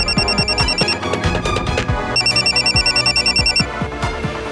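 A telephone rings in two bursts of bright, repeated electronic trilling over loud, tense dramatic music in a Hindi crime drama scene.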